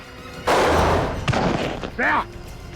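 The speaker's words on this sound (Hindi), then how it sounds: "मुझे लगा नहीं था ये गोली चलाएगा" A single loud gunshot bang from a CID TV crime drama scene, with a short rumbling tail, followed by quieter thuds and a brief voice.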